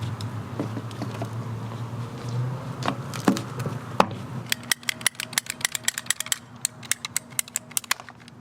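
A cutter works through plastic sprinkler pipe during irrigation-zone work outdoors. A low mechanical grind gives way to a rapid run of sharp ratcheting clicks, close and distinct.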